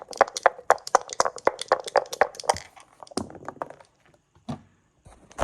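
Dice rattle hard and fast inside a heavy leather dice cup for about two and a half seconds, then a few separate deep knocks follow as they are thrown onto a 1.75-inch Mexican-made Casa Aries backgammon board.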